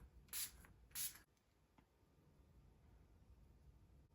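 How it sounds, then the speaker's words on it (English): Makeup setting spray is misted from a bottle in two short, bright hissing bursts close to the microphone, followed by quiet room noise. "And back in with setting spray."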